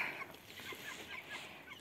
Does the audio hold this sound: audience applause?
no